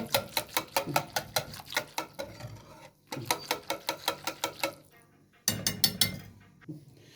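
Rapid rhythmic clinking of a hand whisk beating yogurt in a bowl, in quick bursts with short pauses between them, close up.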